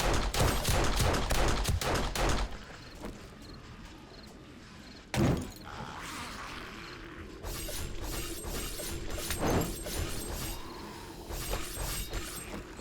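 An M60 machine gun firing at a horde during a blood moon night in a video game, a dense, loud burst of rapid shots, then a sharp crack, mechanical reload clatter, and further scattered fire.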